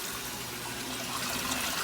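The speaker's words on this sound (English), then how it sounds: "the water coming in over here on this one" Water rushing into the tub of a Maytag washing machine, a steady hissing, splashing flow that holds constant and close throughout, with no voices.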